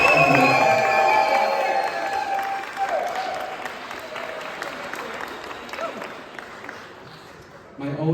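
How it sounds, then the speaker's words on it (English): At a wedding reception during the speeches, guests applaud and cheer in a loud, dense burst that gradually thins and fades, with voices mixed into the crowd noise. "So round of applause for Cassie, for Joss,"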